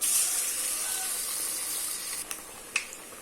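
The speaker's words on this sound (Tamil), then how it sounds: "எண்ணெய் காஞ்சிருச்சு இதில் போடலாம்" Cauliflower vada batter sizzles in hot oil, a steady close hiss throughout with a few small pops and crackles near the end, no talk.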